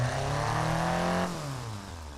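A car's exhaust revs in the BeamNG driving simulator, a loud rasping engine note holding high then dropping off in pitch as the throttle lifts, with no voices.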